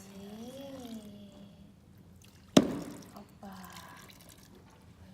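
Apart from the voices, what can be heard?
water being poured onto homemade modeling dough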